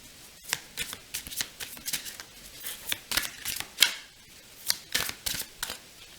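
Oracle cards are shuffled by hand in a quick run of crisp, rhythmic riffles and flicks, close up and alone without any voices.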